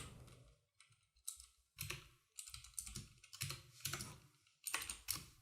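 Typing on a new computer keyboard: bursts of quick, crisp key clicks with short pauses, close and clear, with no voices.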